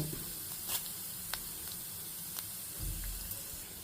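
Salt, cumin and mustard seeds sizzle in hot oil in a home kitchen, a steady close hiss broken by a few sharp pops and crackles, with no voices.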